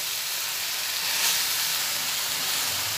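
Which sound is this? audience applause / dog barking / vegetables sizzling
vegetables sizzling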